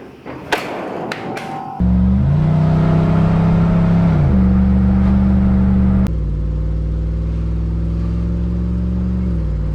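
A 1979 Jeep Wagoneer with a swapped-in HEMI engine and EFI: a few sharp knocks, then the engine fires into a loud, close, steady idle. It revs up and settles, then drops to a slightly lower idle with no talk.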